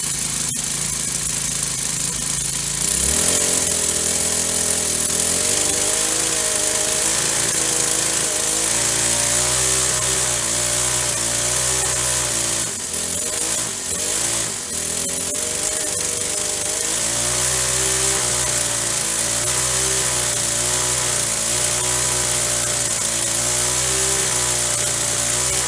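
Troy-Bilt TB685EC small engine running rough with no air filter, a loud continuous throbbing drone that surges and sputters unevenly, close up and without talk.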